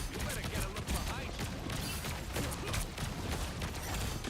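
Fireworks ability going off in the video game Marvel Rivals, a dense crackling barrage of rapid bursts and pops, steady and fairly loud, with game noise underneath and no clear talk.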